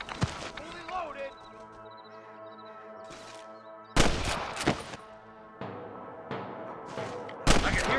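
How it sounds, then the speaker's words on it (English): Several loud, sharp gunshots crack out at irregular intervals in Red Dead Redemption on Xbox, amid a game soundtrack with sustained musical tones, some shots close and punchy. "I can hear more gunshots."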